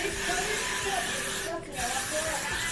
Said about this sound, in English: I'm gonna use some hairspray